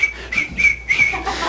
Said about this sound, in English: and I started whistling